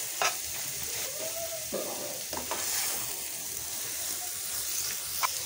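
Egg and cabbage sizzle steadily in a frying pan while being stirred, a continuous close frying hiss broken by a few sharp scraping clicks of the utensil, with no talking.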